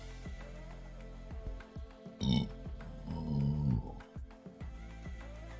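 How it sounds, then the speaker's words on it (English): A man lets out a couple of deep, drawn-out burps during a live crypto trading stream, loud and close to the microphone, with short pauses and soft mouth noises between them. "Sorry, I had to burp."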